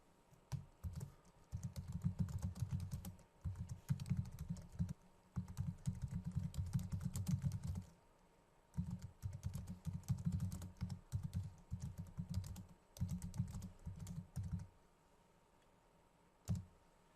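Keys clack on a computer keyboard as a comment is typed in bursts of rapid strokes, with short pauses between runs, close and fairly quiet over a faint steady hum.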